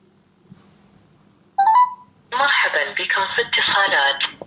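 A 1.43-inch AMOLED XINJI Nothing N3 smartwatch places a phone call: a short beep at first, then a loud, steady run of ringing and dialing tones through its built-in speaker that carries on to the end, with no talk over it.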